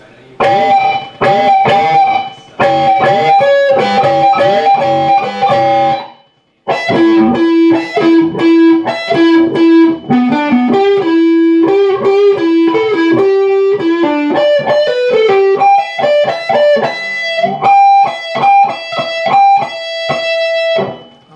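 Electric guitar playing the second solo of a song, loud distorted lead lines with bent and sustained notes, a brief break near the start, then continuous melodic phrases.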